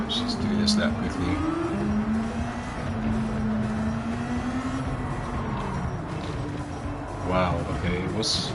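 Race car engine in Gran Turismo 7 droning steadily at a sustained pitch that rises and falls gently with speed, loud and continuous throughout, with a voice talking over it.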